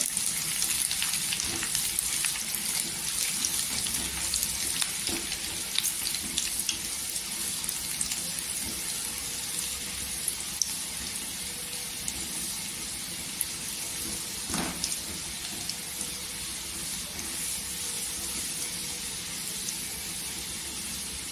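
Garlic fries in a hot pan until golden for moong dal varan, giving a steady, close sizzle with faint clinks and stirring and a brief louder spatter partway through; no talking.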